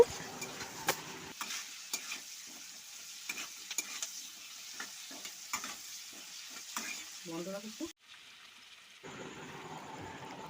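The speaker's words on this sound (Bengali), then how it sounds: "যখন পেঁয়াজ ক্যাপসিকাম ভাজবেন তখন গ্যাস ফ্লেমটা কিন্তু হাই রাখবেন" Onion and capsicum frying in a pan over a high gas flame, a steady crackling sizzle broken by repeated stirring scrapes, then a quieter stretch where the hiss carries on alone.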